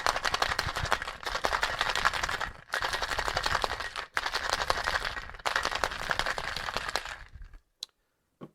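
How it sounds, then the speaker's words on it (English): Ice is shaken hard in a cocktail shaker for a Jungle Bird rum cocktail, with four rapid bursts of rattling and clattering separated by brief pauses, close and loud, then a few faint knocks. "And give it a shake."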